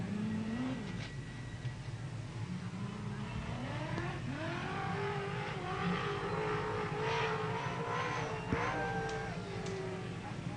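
Super sedan race cars lap the Newcastle Motordrome speedway during a USA versus Australia test meeting, engines rising and falling in pitch as they rev through the turns, heard from a distance over a steady track din.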